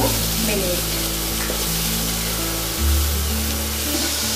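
Mixed vegetables with salt sizzling and frying in a pan for Indian vegetable pulao, a steady loud hiss that continues throughout with a brief bump of stirring near the end and no speech.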